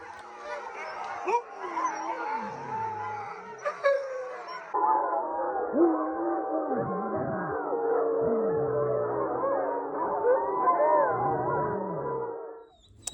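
Several sled dogs in a kennel in Norway howl together in a sustained chorus, with whimpers and yips mixed in, fairly close and continuous throughout.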